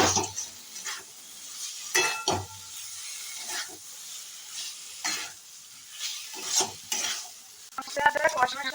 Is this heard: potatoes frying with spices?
yes